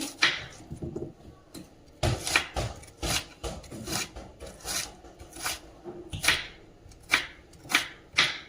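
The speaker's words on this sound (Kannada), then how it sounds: "ಈಗ ಈರುಳ್ಳಿ ಕಟ್ ಮಾಡೋಣ. ಚಿಕ್ಕದಾಗಿ ಕಟ್ ಮಾಡ್ಕೊಳ್ಬೇಕು ಈರುಳ್ಳಿ." An onion is chopped finely with a knife on a board for a Karnataka-style sabakki uppittu, a series of crisp irregular cuts and taps, close and fairly loud, with no talking.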